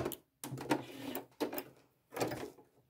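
A sewing machine stitches through a leather belt in three short bursts of mechanical whirring and thumping, close and moderately loud, with brief pauses between runs and no talking.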